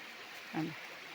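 A small stream flows steadily on its way to join a larger one, giving a faint, continuous watery hiss with one brief slightly louder splash midway.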